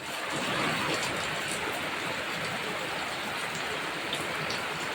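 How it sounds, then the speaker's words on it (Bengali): Steady rain pours down outdoors in a village in Bengal, a dense, even hiss of drops hitting surfaces that holds at the same loudness from start to finish, with no voices over it. "আর বৃষ্টি ঝেপে ধান দিব মেপে যা বৃষ্টি ঝরে যা"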